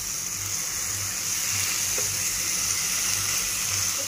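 Arbi (taro root) masala gravy fries in a pan with a steady, close sizzle that runs throughout, with no voices over it.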